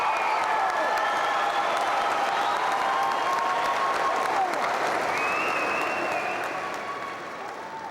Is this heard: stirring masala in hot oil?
no